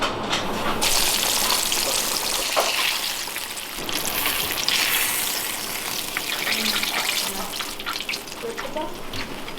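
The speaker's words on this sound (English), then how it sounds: "so we're gonna go ahead and drop it in the oil." Battered gizzard shad fillets frying in hot oil, a loud, steady broadband sizzle that surges as the fish goes in and keeps crackling and hissing close up throughout, with no one talking.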